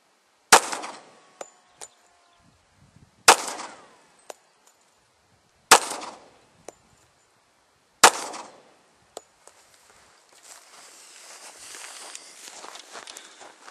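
Pistol shots at an open shooting range with an RIA 1911 and a Glock 22: four sharp cracks spaced a few seconds apart, each followed by faint metallic pings, then soft rustling noise.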